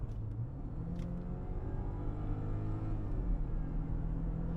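BMW F10 520i LCI engine under full throttle from inside the cabin, a steady low droning rumble and road noise building gradually, moderately loud and continuous with no talking.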